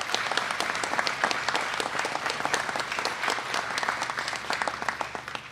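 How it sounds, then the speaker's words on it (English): Warm, steady round of applause from an audience at a Pennsylvania food bank event, dense overlapping claps sustained evenly for several seconds with no talking. "Give our farm industry a nice round of applause"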